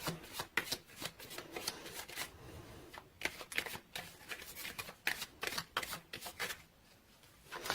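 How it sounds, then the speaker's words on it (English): Tarot cards being shuffled and drawn by hand, a quick series of crisp riffling flutters and card snaps in irregular bursts, close and fairly quiet, with no talking. "let's pull few cards to clarify situation"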